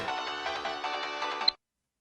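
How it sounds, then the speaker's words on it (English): A phone ringtone from the Steins;Gate Elite video game plays as a bright, steady electronic melody for about a second and a half, then cuts off abruptly into silence. "Your phone's ringing"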